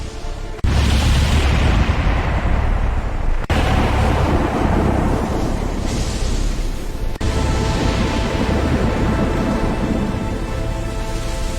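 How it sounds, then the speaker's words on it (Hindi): A dense thunderstorm with heavy rain roaring steadily and loud thunder cracks and rumbles breaking through several times, no voices. "अचानक आसमान में तेज बिजली चमकी।"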